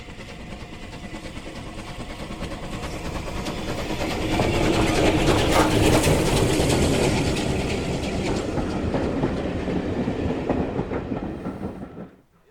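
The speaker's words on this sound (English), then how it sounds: "seeing LMS Steam working the annual Great Britain Rail Tour over the" An LMS steam locomotive hauling the Great Britain rail tour train on the South Devon banks rumbles nearer, rising to a loud, rhythmic clatter of wheels over rail joints before fading quickly, with no voices.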